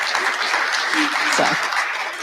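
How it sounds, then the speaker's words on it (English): Applause from a lunch gathering at an IETF meeting, a loud, dense, sustained wash of clapping with a voice briefly speaking over it. "So I'd like a round of applause for Miriam."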